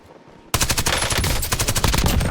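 Rapid automatic gunfire from an assault rifle in a video game erupts suddenly after a quiet moment, a loud sustained burst of closely spaced shots running to the end.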